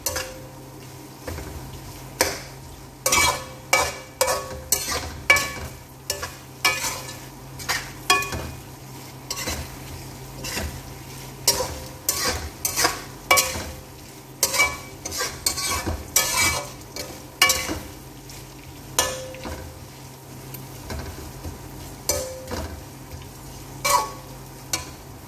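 Fish frying in hot oil, likely Malaysian-style, sizzles steadily while a utensil scrapes and stirs it in a pan, with repeated sharp clinks and scrapes against metal over a continuous frying hiss, no talking.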